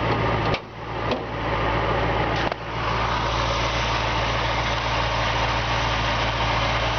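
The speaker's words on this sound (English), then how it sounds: "The engine has every indication of being recently rebuilt. It runs perfect." A rebuilt engine in a 1967 Ford Mustang convertible idles steadily and smoothly, with a deep, even exhaust throb and a couple of brief dips in level near the start.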